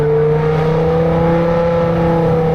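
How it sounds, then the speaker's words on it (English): A loud, steady car engine drone hums without pause, holding an even pitch from start to finish. "You hear any engine noises?"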